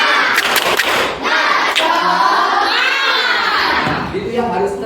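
Schoolchildren in a classroom shout and cheer loudly together, with claps and rising voices over about five seconds during a positive-discipline class activity.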